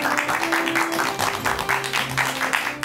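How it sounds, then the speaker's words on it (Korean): A studio audience on a Korean talk show applauds to welcome a laughter-therapy professor. The clapping comes as rhythmic bursts over a soft background music tone. "큰 박수 부탁드립니다"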